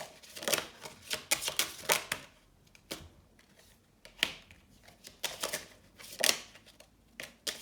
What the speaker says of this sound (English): Let me pull some angel oracle cards for you.